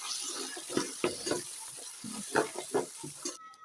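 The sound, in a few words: tomato paste being added to a pan and stirred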